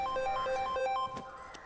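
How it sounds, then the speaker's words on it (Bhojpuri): A phone ringtone chimes in a quick repeating melodic pattern, close and clear, then cuts off abruptly partway through, leaving faint room noise. "अरे फोन बाजा तो देखी ना"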